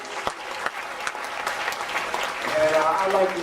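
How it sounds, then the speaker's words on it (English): An audience applauds at a discussion session, a steady wash of clapping that swells slightly toward the end while a voice speaks over it. "Let's give them another big round of applause."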